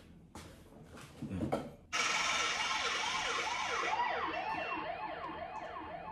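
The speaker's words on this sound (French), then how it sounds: "Police, ça c'est la police, non?" A police siren wails outside, its rising and falling sweeps sounding loud and close before easing away as it passes, following a few dull knocks and rustles at the start.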